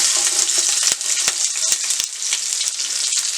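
Onion hits hot oil for a Réunion-style bichique carry and sizzles with a bright, loud hiss, punctuated by a few sharp clicks and stirring knocks, with no speech.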